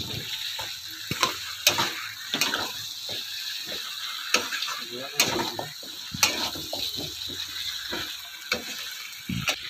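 Jackfruit frying with spices in a hot pan, giving a steady close sizzle broken by frequent sharp clacks and scrapes of a utensil stirring against the pan.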